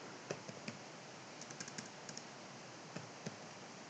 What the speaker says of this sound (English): you need to give exactly the way I'm typing